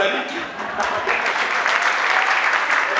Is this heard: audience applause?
yes